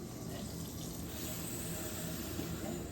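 Water running steadily from a tap inside a 2019 Forest River Salem Hemisphere RV, a continuous close hiss and splash that holds even for the whole moment with no talk over it.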